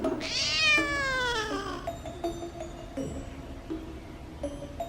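A cat meows in a long, rising and falling drawn-out call, loud and close, followed by a few softer short mews over a steady background hiss.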